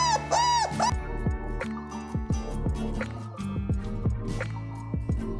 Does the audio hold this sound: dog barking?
yes